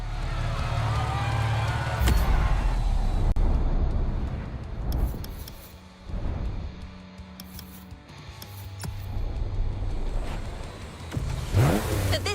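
A Toyota Supra engine in The Crew Motorfest racing game, loud and close, revving hard and rising through the gears with brief dips at each shift, heard without talk.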